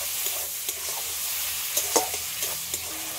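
Spice masala with ground cumin and a splash of water sizzles steadily in a pan, broken by a few short scrapes and taps of stirring, with no voices.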